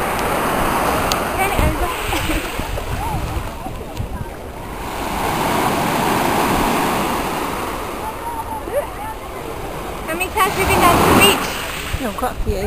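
Sea surf washing onto a sandy beach on Kos, a steady broad wash of waves with swells and splashes rising and falling throughout, fairly close, with people talking over it.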